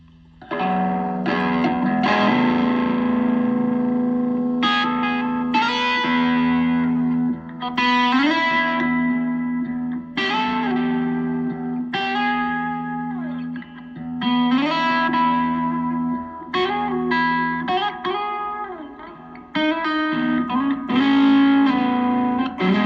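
An electric guitar played through a Donner Arena 2000 multi-effects pedal with high-gain distortion rings out in sustained, saturated chords and bending notes, loud and continuous with brief gaps, no voices.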